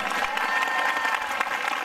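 Dense applause from a church congregation during a prophetic worship service, a continuous wash of many hands clapping at moderate distance, even in level throughout.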